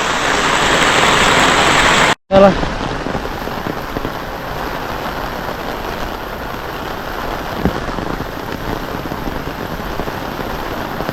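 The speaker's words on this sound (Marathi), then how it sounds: "पाऊस पडतोय ना सकाळपासून एकदम मुसळधार बघा" Heavy monsoon rain pours down in a loud, dense, continuous hiss that cuts out briefly, then resumes slightly softer and steady.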